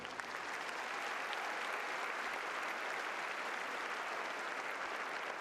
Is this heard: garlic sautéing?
no